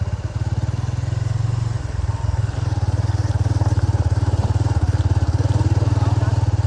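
A motorcycle engine idles steadily nearby on a rural road by a bridge, a loud rhythmic low putter that runs throughout, with brief voices over it.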